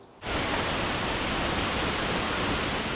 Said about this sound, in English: Takes us to the bottom of a waterfall that's actually twice as tall as Niagara Falls.